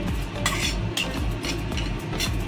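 Whole spices with fennel are dry-roasted in a pan, with a utensil scraping and stirring in a quick rhythm of close, clinking strokes and no voice over it.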